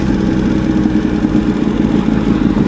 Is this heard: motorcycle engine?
yes